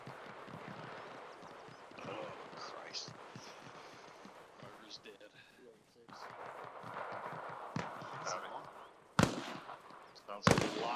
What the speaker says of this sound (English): Sounds like lots of fire from the east and the woods.